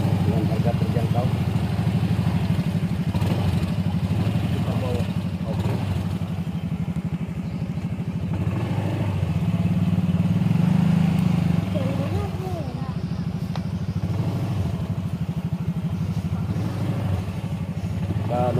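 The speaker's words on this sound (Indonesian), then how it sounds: "Numpang di motor." A motorcycle engine hums steadily throughout as the bike rides along, with people talking over it.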